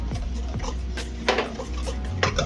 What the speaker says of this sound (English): Okay, our zabaglione is starting to whisk